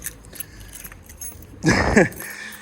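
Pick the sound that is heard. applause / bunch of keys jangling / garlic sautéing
bunch of keys jangling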